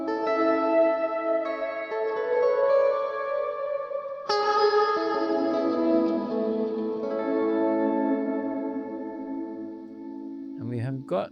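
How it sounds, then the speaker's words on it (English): Guitar played through the Source Audio Encounter pedal's Hypersphere reverb, big sustained chords blooming into a long shimmering wash with echoing tails, a new chord struck midway, loud and close. "that is the Hypersphere Reverb, and that is a big, glorious, long"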